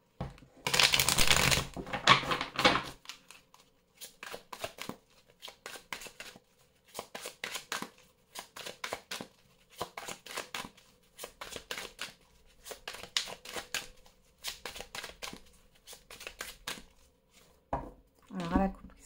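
Oracle cards being shuffled by hand in a quiet room, a dense riffling burst at the start followed by a steady series of short papery shuffling bursts with small pauses between them, and a brief voice near the end.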